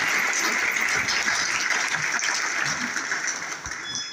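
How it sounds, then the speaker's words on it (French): An audience at a ministerial New Year's greetings ceremony for the Minister of Culture applauds in a full, sustained wash of clapping that tapers off slightly toward the end, loud and close, with no talk. "je demande véritablement à l'assistance de vous applaudir"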